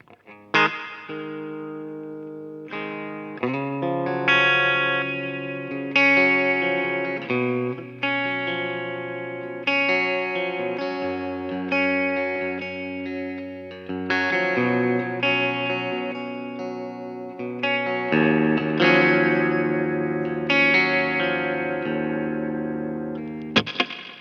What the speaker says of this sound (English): this is a digital reverb, so it's not an analog spring reverb tank